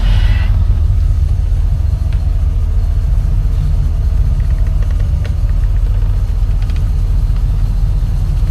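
A 1975 Pontiac Grandville's engine starts and settles into a loud, steady low rumble at idle close by, with a few faint clicks over the running engine.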